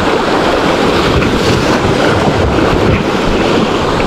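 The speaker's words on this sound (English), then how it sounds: "Check out the way the waves come together from both sides." Loud, churning whitewater of the Main Salmon River surges and crashes continuously as waves meet from both sides, a dense rushing roar with wind buffeting the microphone and no voices.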